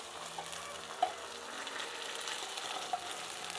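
Tomatoes added to a pan of frying onions for Sicilian pasta alla Norma, giving a steady, close sizzle with light stirring clatter and a few small pops, no talking.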